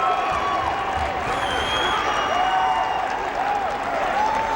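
A crowd at a college wrestling dual meet between UNO and NDSU cheers and applauds steadily throughout, loud and continuous with scattered whistles and shouts, under a commentator's voice.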